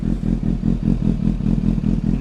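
Deep, throbbing exhaust pulses from a Suzuki GSX-S750 motorcycle with an SC Project slip-on exhaust, running loud and close in a steady rhythmic beat, with no talking.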